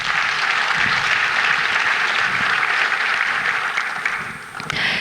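A crowd applauds continuously after an investment presentation on Rwanda, a dense wash of clapping that holds steady and tapers slightly toward the end.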